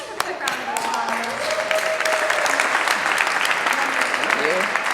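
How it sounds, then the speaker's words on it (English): An audience at a Today at Apple creative session applauds briefly and steadily, with voices calling out over the clapping throughout. "Let's give a quick round of applause."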